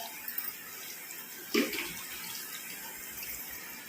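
Tap water runs steadily while hands are washed at a home sink, a continuous close hiss with a brief louder splash partway through, and no voices.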